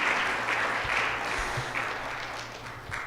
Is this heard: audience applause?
yes